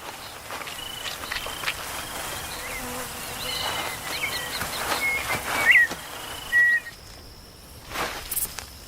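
A swarm of winged termites in the Amazon during a brief mass emergence, with anteaters feeding on them: a steady, dense insect buzz fills the air, and scattered short bird chirps come through near the end.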